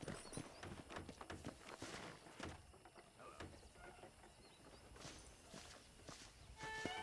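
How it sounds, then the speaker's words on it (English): Steady clip-clop of horse hooves walking at an even pace in Red Dead Redemption, fairly close, with a faint background ambience. "let's see if you can still ride a horse"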